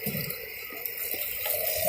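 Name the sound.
water poured into a pot to heat for oatmeal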